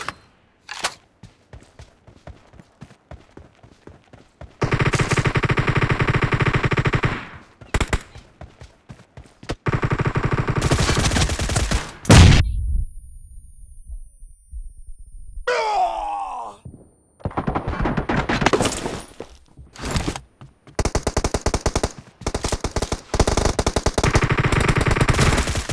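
M762 assault rifle firing in a shooter game, loud sustained full-auto bursts repeated several times with short silent gaps, a few single shots and reload clatter between, little talk.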